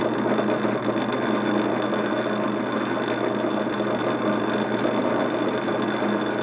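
A plain turning lathe cuts threads with its back gears engaged, a steady, close mechanical whir and hum with a fine knocking rhythm that continues unbroken throughout.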